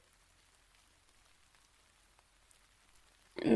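Faint, steady rain patters in a video game, a soft continuous hiss with scattered drops, until a sudden loud burst of sound at the very end.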